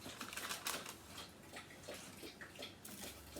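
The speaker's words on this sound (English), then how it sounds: "So there you hear Libby drinking her water" Dog lapping water from a bowl, soft quick irregular wet laps, faint and close.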